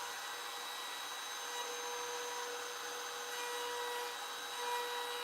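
A jump house blower runs hard in a woodshop with a hose attached, giving a steady, loud broadband whoosh with a constant whine, unbroken for the whole stretch.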